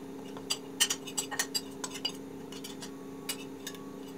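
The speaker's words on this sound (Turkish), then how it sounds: "Şimdi salatamın üzerine sosu ekliyorum" Light clinks and ticks of a utensil against a bowl as dressing is added to a beetroot salad and mixed in, scattered irregular taps over a low steady hum, with no talking.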